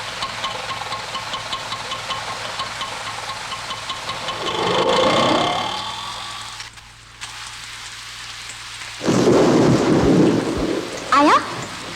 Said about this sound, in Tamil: சென்னையிலும் தென் மாவட்டங்களிலும் பெருமழை பெய்து வருகிறது